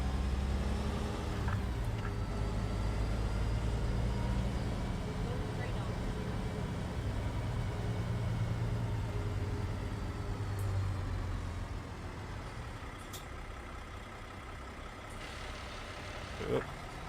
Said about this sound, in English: I always like a good Cummins engine sound